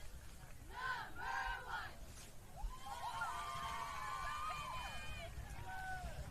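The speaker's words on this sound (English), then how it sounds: "Cheer team doing their thing." A cheer team chanting at a high school varsity football game, distant rhythmic shouted calls rising over crowd noise and nearby voices, faint overall.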